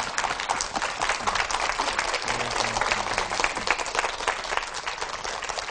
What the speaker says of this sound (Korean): 여러분 큰 박수로 모시기 바랍니다